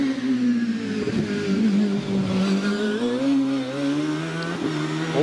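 A hill climb race car at Prescott, powered by a rear-mounted Yamaha-based 2-litre V8 of roughly 300 horsepower, revs hard through the gears, its engine note rising and falling with some tire squeal at moderate distance.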